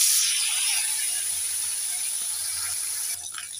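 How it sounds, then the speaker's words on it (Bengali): Koi fish frying in hot oil in a kadai, a steady bright sizzle and hiss that holds at an even level, close by, then thins slightly near the end. "আবারও 2 পিস আছে, ওই দুটোকেও ভেজে নেব।"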